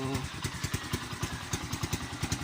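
A Kawasaki Bajaj CT 125 motorcycle idles close by, its single-cylinder engine putting out a steady, even chain of low pulses with a light mechanical clatter and no revving throughout.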